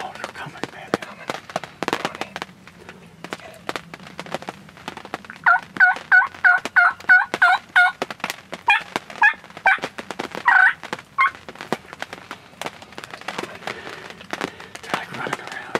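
Wild turkeys gobble during a Pennsylvania spring opening-day hunt, several loud rattling gobbles bursting close in quick succession amid rustling and sharp clicks, with people talking quietly in the woods between calls.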